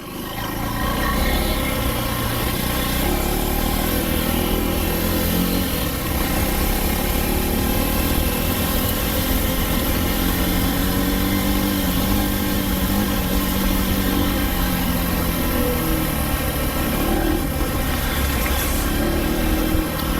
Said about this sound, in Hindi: I love this bike.